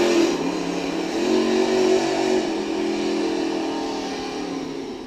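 A Shockwave Racing big-block hydroplane race boat engine rumbles steadily as the boat gets underway at a 2015 race in Madison, Indiana, a sustained mid-pitched drone that swells slightly and then eases off, with no voices.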